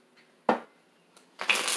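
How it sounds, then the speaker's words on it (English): Tarot cards being shuffled, a short riffle burst midway followed by a longer, louder rustling shuffle at the end, with no talking. "one more shuffle"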